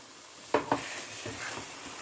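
Spices and tomato paste are stirred and fried in a pan for a Bengali spring onion (peyajkoli) dish, giving two quick scraping stirs over a low, continuous sizzle.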